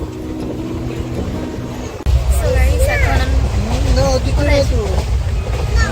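A passenger train on the Silchar–Agartala line in Tripura rounding a curve, a loud continuous low rumble of wheels on rails from inside the carriage, growing heavier after a sudden jump in level, with a person talking over it.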